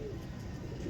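Ferozpuri shikra pigeons cooing softly and continuously at close range, a low murmuring drone of several birds with no talk over it.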